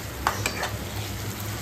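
Spice paste is stirred in a frying pan while cooking rohu fish curry, with a steady close sizzle and a few quick scraping strokes of the spoon.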